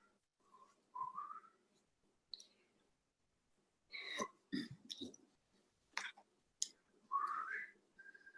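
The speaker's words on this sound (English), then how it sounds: "if you're going to keep whistling" Short, scattered whistled notes, some sliding upward, come between quiet clicks and breathy mouth noises, close up and intermittent, from a person whistling on an open microphone during a commission meeting.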